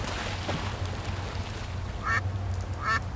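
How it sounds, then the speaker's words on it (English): Ducks in the video game Secret Files 2 quack twice in short raspy bursts near the end, moderately close over a low background hum. "This noisemaker seems to appeal to the ducks."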